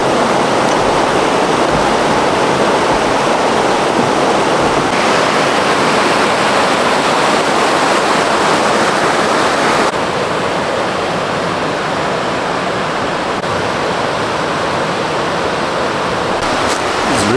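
A rushing river along the Pacific Crest Trail near Yosemite roars as a loud, dense, continuous wash of water noise, steady and close for the whole stretch with no voices over it.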